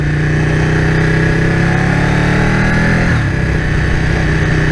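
A 2015 Ducati 1299S superbike engine drones steadily at around 4,000 rpm while riding, a loud, close, constant hum with a brief dip in pitch near the end.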